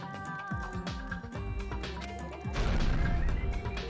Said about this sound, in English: He crashed into the pillar,